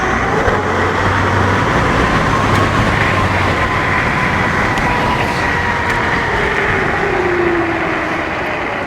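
A 10,000-watt electric pocket bike motor whines under throttle as the bike rides. A rising and falling electric whir sits over heavy road and wind rumble, loud and close, with no talk.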